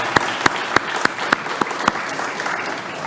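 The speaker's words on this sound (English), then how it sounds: "just a round of applause for our clinicians" Applause at an entrepreneurship clinic launch for the clinicians, a few sharp, evenly spaced loud claps standing out over a softer patter of scattered clapping from a smallish audience.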